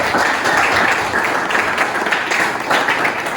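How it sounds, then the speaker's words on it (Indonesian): A classroom of students applauds a classmate, loud dense clapping filling the room from start to finish with a slight murmur of voices underneath. "tepuk tangan untuk Wafik"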